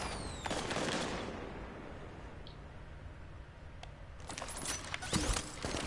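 Rapid bursts of mounted machine-gun fire in The Division, a dense rattling volley at the start and again near the end, with a quieter stretch of ambient game noise between and no talking.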